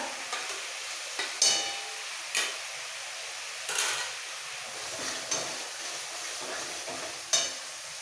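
Green chilli paste and cumin paste fry and sizzle in a pan for masala katla fish, a steady soft crackle broken by several sharp scrapes of a stirring spoon, close and without speech.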